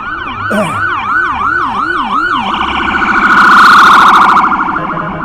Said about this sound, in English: Oh, we got the police. No, it's an ambulance.